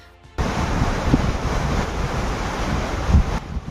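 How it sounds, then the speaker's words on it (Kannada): Water rushing out of the Hippargi barrage gates on the Krishna river in Jamkhandi taluk, Bagalkot district, a dense continuous roar with heavy wind noise that starts abruptly and then cuts off near the end. "ಹಿಪ್ಪರಗಿ ಬ್ಯಾರೇಜ್ನಿಂದ ನೀರು ಬಿಡುಗಡೆ."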